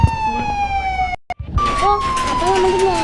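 A police car siren wails in the open-world video game Indian Theft Auto, its steady tone broken by a brief silent cut, then returning loud and close.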